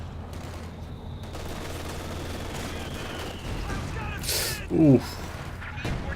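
Rapid bursts of machine gun fire crackle amid battle noise in a Company of Heroes 2 multiplayer match, layered over a game caster's commentary with a brief exclamation.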